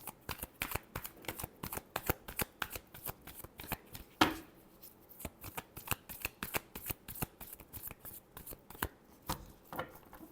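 A deck of tarot cards is shuffled repeatedly, a rhythmic run of crisp riffling slaps and flutters, close and clear, with one louder riffle partway through.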